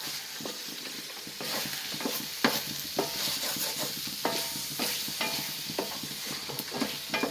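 Steady stirring scrapes and clatters of a wooden spoon in a pan of frying mutton roast over a continuous sizzle, with repeated knocks of the spoon against the pan.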